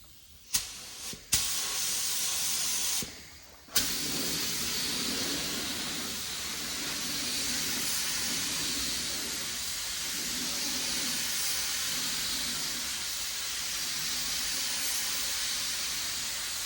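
A spray gun lays primer onto the body of a Squarebody Chevy, giving a steady, loud hiss that runs almost unbroken, with a few short pauses near the start.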